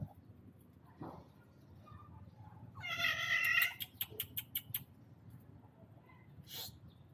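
A visiting tomcat making a strange, strained yowl: one drawn-out wavering caterwaul followed by a quick run of short choppy bursts, close and moderately loud over faint background hiss.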